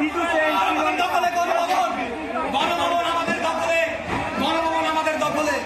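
A dense crowd in uproar at Gonobhaban in Bangladesh, with many voices shouting and chattering at once in a continuous, loud commotion.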